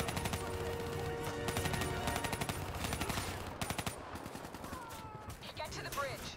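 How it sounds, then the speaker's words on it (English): Rapid bursts of automatic gunfire rattle through a Call of Duty Black Ops 3 firefight, dense overlapping volleys for several seconds, then thinning into scattered shots with other battle noise. "Give me some cover fire."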